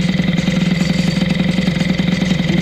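A moped engine fitted with a Boost cylinder head idles at very low revs, a close, loud, even chugging pulse with steady rapid beats and no voices over it.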